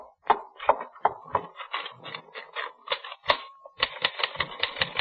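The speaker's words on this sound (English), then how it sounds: "Then I was back at my typewriter" Typewriter keys clatter in quick irregular bursts as a radio drama sound effect, with a brief carriage-return ding near the middle before a denser run of strikes, close and alone with no talk.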